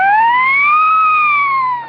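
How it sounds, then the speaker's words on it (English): A loud, steady siren wail with a slow rising and falling pitch sweep, heard alone and close, fading slightly at the end. "That's the siren of the certified magic carpet."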